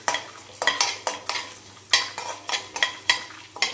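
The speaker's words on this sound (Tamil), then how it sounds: "இப்போ பார்த்தா எல்லாத்தையும் நல்லா வறுத்து எடுத்துடணும்." Pressure-cooked chana dal and spices are roasted in a little hot oil in a pan. A spatula scrapes and stirs in quick repeated strokes over a soft sizzle, with light clinks of metal on metal. No one speaks.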